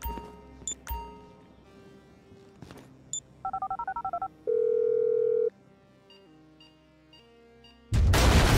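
A phone dials in the GTA 5 video game prologue mission: a string of short rapid keypad tones, a steady held tone, then a series of ringing beeps, ending in a sudden loud burst of noise.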